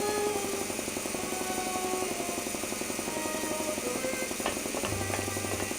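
A drill in the video game Grim Fandango runs continuously with a rapid, rattling pulse, loud and steady throughout, with a brief low hum and a few clicks near the end and no talk.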